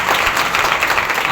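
A Sunday church service congregation claps in a brief, loud, close burst of steady applause.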